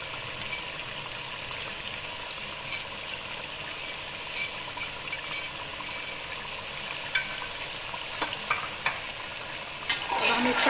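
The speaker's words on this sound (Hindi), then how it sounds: "इसको अच्छी तरह भूनेंगे मसाले के साथ।" Chicken korma frying with ground spices such as turmeric and coriander in a pot, a steady broad sizzle with occasional stirring scrapes and clinks, louder rattling toward the end.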